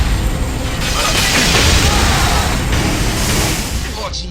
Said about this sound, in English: There's fire on our left, explosions on our right.